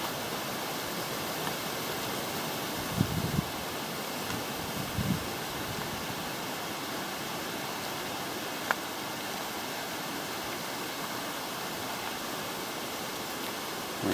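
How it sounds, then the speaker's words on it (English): Strong wind blowing at a waterfall lookout, a steady broad roar with a couple of faint gusty bumps and a brief click, no voices. "the wind's really come up"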